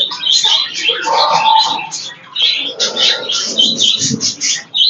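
Busy cooing and squawking of many pigeons close by, some nesting on eggs, overlapping and continuous, with short pauses between bursts.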